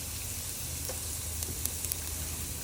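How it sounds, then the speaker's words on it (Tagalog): Garlic frying in hot oil in a pan sizzles steadily up close, with small crisp pops scattered over the constant hiss and no voices. "Mainit na ang mantika, kaya ilagay na po natin ang ating bawang."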